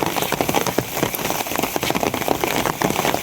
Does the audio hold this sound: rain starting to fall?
yes